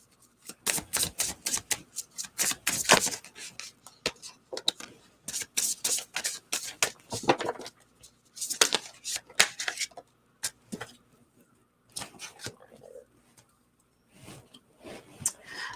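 A deck of tarot cards being shuffled by hand, repeated crisp riffling bursts separated by short pauses, close and fairly quiet with no talking.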